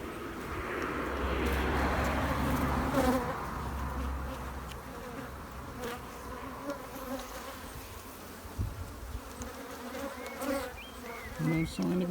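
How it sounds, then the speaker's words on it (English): Dense, steady buzzing of many bees swarming around an opened hive, close and continuous, with a few individual bees whining louder as they pass near. "Bees."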